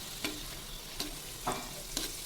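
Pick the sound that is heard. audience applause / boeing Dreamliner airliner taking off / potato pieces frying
potato pieces frying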